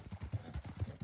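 A horse's hooves clip-clop in a steady walking rhythm in the video game Red Dead Redemption 2, soft and fairly close, with no talk over them.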